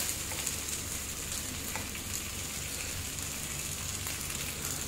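Appe made from sorghum flour roasting uncovered in an appe pan, a soft steady sizzle running evenly with a few faint ticks, no voices over it.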